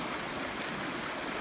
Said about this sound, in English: So here I am back at the creek crossing.